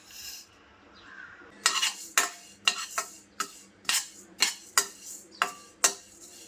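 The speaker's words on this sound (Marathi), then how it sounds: "पॅन गरम झालेला आहे यामध्ये मी आता घालते काळे तीळ आणि मेथीचे दाणे" Black sesame and fenugreek seeds dry-roasting in a hot pan for homemade hair oil, with a series of about ten sharp metallic scrapes and stirs at a steady rhythm, close over faint background sizzle.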